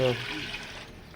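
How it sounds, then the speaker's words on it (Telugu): Water poured into hot ghee in a pan while making rava kesari, a short rushing splash and bubbling hiss that fades quickly. "నేతిలో నీళ్ళు పోసుకొని బాగా బాయిల్ అవ్వాలి"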